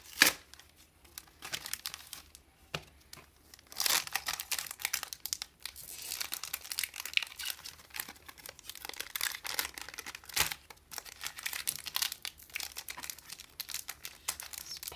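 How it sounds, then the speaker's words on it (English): A Pokemon booster pack wrapper is crinkled and torn open, the foil crackling and ripping in sharp bursts amid ongoing close, rustling handling noise, with no talking. "Pack is so hard to open."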